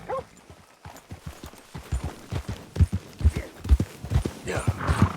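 Hooves clip-clop in a steady, quick rhythm, getting closer and louder as a horse approaches over a hard surface, with a faint voice in the background.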